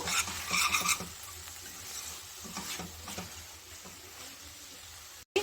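Grated coconut being stirred into a vegetable palya on a low flame: brisk spoon scrapes and soft patters against the pan over a faint sizzle, then a brief cut just before the end.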